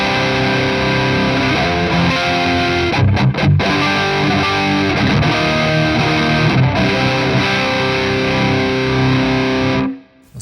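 Electric guitar through a Seymour Duncan Jupiter Rails neck pickup with high-gain distortion, sustained saturated chords and riffs ringing loudly for about ten seconds before cutting off abruptly.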